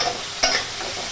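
Three chopped green chillies frying in a pan with turmeric powder, a steady close sizzle broken by one sharp stirring scrape partway through.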